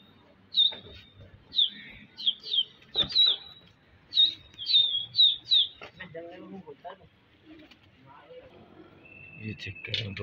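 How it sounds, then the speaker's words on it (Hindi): Racing pigeons released from a rooftop loft, with a burst of sharp repeated bird calls and wing flutters in the first six seconds, then scattered rustles and murmured talk as they settle. "दानियाल भाई कबूतर खोल लें"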